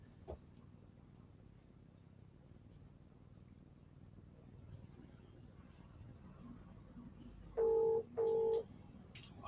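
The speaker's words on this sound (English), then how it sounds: "Hang on, I'll try ringing her again." A telephone being dialed to call someone, two short electronic dial tones in quick succession near the end after a long stretch of faint background hiss and quiet clicks.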